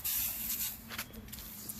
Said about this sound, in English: We're going to spray it and let it sit, and we're going to see what happens.